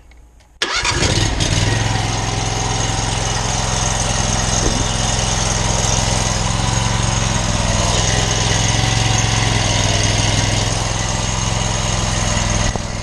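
A pressure washer's gasoline engine fires up abruptly, then settles into a loud, steady, close idle with the unloader turned all the way down, holding an even drone with no talking.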